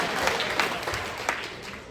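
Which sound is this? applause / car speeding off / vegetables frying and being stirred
applause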